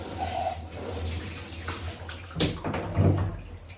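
Tap water runs into a container to mix dog shampoo at a grooming station, a soft hissing splash with a few louder gurgles and clunks near the end.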